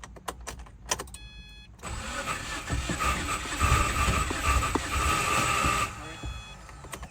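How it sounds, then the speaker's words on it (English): An abandoned Subaru WRX's faulty starter cranks but fails to engage, a loud whirring mechanical grind lasting several seconds after short clicks, close up with no talk. "Starter's not engaging all the time."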